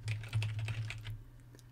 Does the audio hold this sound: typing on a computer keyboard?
yes